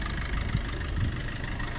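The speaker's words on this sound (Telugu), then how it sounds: "చూడండి ఇంజన్ కూడా" A 2016-17 Maruti Suzuki Swift Dzire with about 189,000 km on the odometer idles with a steady, even low rumble at moderate distance, and no one talks over it.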